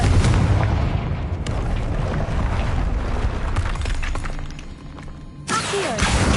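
A Confringo spell explodes in Hogwarts Legacy with a heavy, loud boom that rumbles and decays over several seconds. A sharper burst follows near the end.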